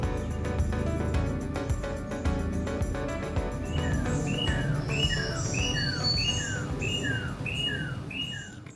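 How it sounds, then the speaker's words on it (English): Birds chirp repeatedly in short, rising tweets over a steady background hum in a mountain garden, growing more regular and insistent in the second half. "Birds are so happy here."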